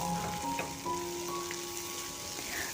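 Kakrol (spiny gourd) frying in a pan over raised gas heat, a steady low sizzle throughout with faint scraping stirs, no voices.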